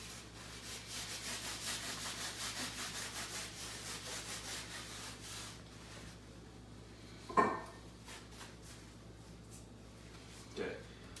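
A napkin rubs olive oil onto a metal pizza pan in rhythmic back-and-forth strokes for several seconds, then the rubbing goes quieter and is followed by a sharp knock against the pan and a later softer clatter.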